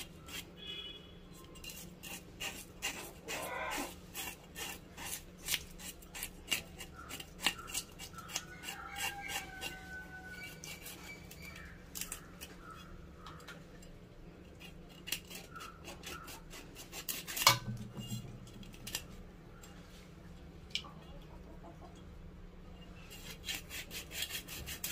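An aylameen fish is scaled by hand, making repeated raspy scraping strokes in an irregular rhythm with occasional sharper scrapes and knocks, close and moderately loud, without speech.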